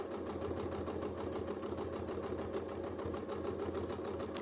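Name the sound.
sewing machine stitching free-motion feathers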